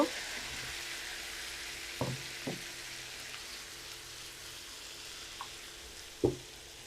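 Egg balls dropped into chili and tomato sauce in a pan, a quiet steady sizzle with a few sharp knocks and taps of a utensil against the pan, close but low in level, no talking.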